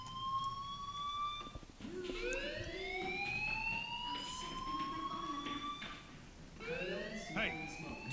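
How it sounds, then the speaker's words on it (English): Wailing electronic fire alarm in the Life Is Strange video game, rising sweeping tones repeating over several seconds, loud and steady, with faint voices underneath. "Hey, do you hear that fire alarm?"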